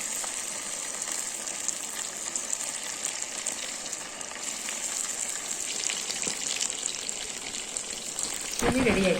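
Pieces of chicken chilli deep-frying in hot oil, a dense continuous sizzle close by that stays steady, growing slightly louder with a clatter near the end.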